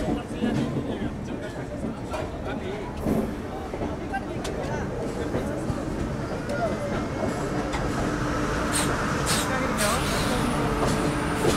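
Inside the Bagmati Express passenger train as it pulls out of Itarsi railway station, the carriage rumbles and rattles continuously, with clacking over the rails growing steadier, while people talk nearby.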